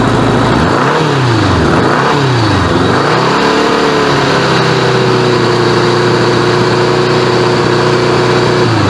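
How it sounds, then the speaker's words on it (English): Engine of a 1986 Honda Goldwing GL1200 SE-I motorcycle, loud and close, revved up and down three times in quick succession before settling into a steady raised idle. "When I rev it up,"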